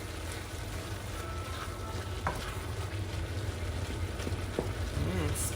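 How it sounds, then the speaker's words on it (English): Cuban picadillo with raisins is stirred in a sizzling pan. A steady frying hiss runs under a few scraping clicks from the spoon, close and moderately quiet, with no speech. "I'm gonna mix all that up in there."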